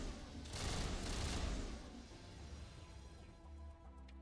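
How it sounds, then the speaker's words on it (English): Gunfire in the Mass Effect video game, a loud, sustained burst of rapid shots that fades into a rumbling tail. "Like 4 shots and they're down"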